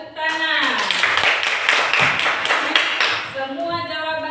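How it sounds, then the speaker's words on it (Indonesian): Classroom group clapping hands on a teacher's cue, a brisk run of rhythmic claps lasting about three seconds, close and loud, with a voice speaking just before and after. "Ya, tepuk tangan."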